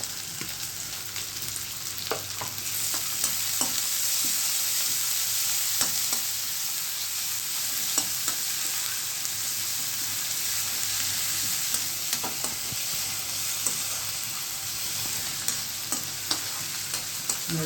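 Garlic, onion, chilli and tomato fry in a hot pan, a steady sizzle and hiss with occasional scraping stirs and light clicks of a utensil, no voices heard.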